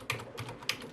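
Keys clacking on a computer keyboard while a track name is typed into recording software in a home studio, a few quick taps in short bursts, close and fairly quiet with no talking.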